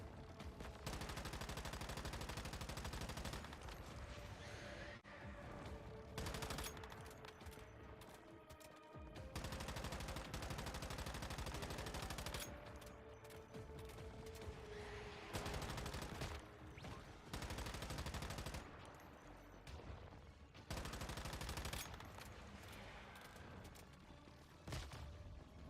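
Gunfire from a weapon in the video game Once Human rattles in long, loud sustained bursts, separated by brief gaps, with no talking.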